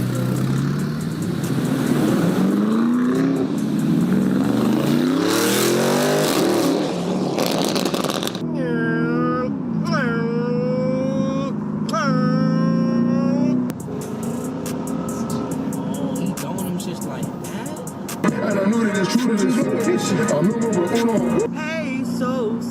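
Lamborghini cars driving, with loud rising and falling engine revs close by, a sharp upshift sweep early on, then several quick throttle blips and a steadier drone toward the end.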